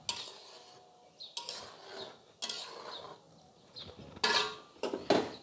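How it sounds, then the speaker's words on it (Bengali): Cauliflower and carrot biryani is stirred in a pot, heard as faint, intermittent scrapes and clinks of a spoon against the pot, coming in separate bursts with quiet gaps between them. "একটু একটু অল্প অল্প করে একটু নেড়ে দিবেন"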